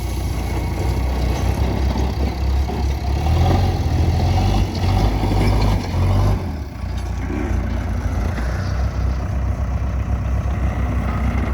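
A heavy engine rumbles steadily throughout, a low continuous drone of a tractor running nearby in a field during land levelling with a JCB, easing slightly partway through.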